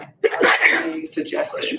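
A single quick sneeze bursts out, followed immediately by a person speaking close by.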